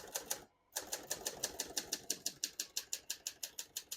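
Typing on a 1971 Hermes 3000 portable manual typewriter: crisp, evenly spaced key strikes in a quick steady rhythm, close and clear, after a brief silent pause at the start.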